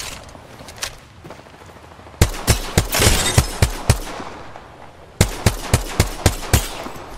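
Gunfire in Apex Legends during a ranked match: sharp repeated shots in rapid bursts, a first volley of about ten cracks after a lull, then a second run of evenly spaced shots, loud and close over faint background noise.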